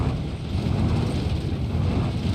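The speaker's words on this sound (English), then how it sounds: "I love the sound of this engine." Bruckell Nine car engine in BeamNG.drive, a 4x4-modded car, droning with a low, rumbling steady rev that holds loud and close throughout, with no talking.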